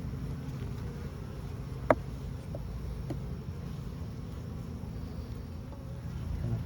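Honey bees hum steadily around an open beehive during a strong nectar flow, a dense continuous buzz close by with one brief sharp knock partway through.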